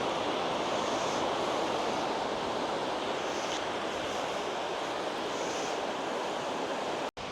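Surf on a Pembrokeshire beach rolls in as a steady, loud wash of breaking waves with wind noise, continuous throughout and alone, with no voices.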